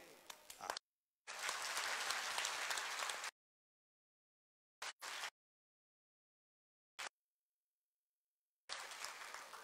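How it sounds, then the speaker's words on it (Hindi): A crowd at a political rally in Laksar, Uttarakhand claps in a couple of bursts, a sustained spell of applause broken by gaps of silence and short clipped fragments, fairly distant and even. "अरे करवा दी थी तो ताली बजाओ"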